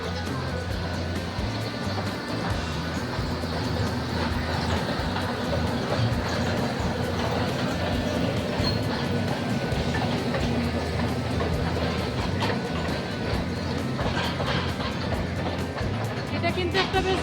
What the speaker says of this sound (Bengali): পুরো লেকটাকে ঘুরে টয় ট্রেন মতন রয়েছে, ভালো ঘোরানো যায়।